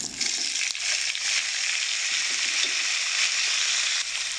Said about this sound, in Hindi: अदरक लहसुन का पेस्ट गोल्डन हो चुका है, तो इसमें हम आलू ऐड कर देंगे